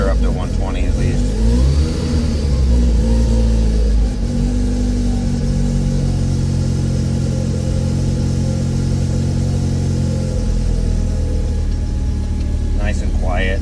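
A homebuilt street truck's engine warms up close by, a loud continuous idle with a deep low rumble that swells into revs and then settles back to a steady throaty drone.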